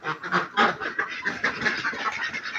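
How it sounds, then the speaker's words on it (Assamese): Farm ducks, local domestic birds, quack repeatedly in a close, busy chorus of overlapping nasal calls with no pause across the short stretch. "এইয়া হাঁহকেইটা ওলাই গ'ল।"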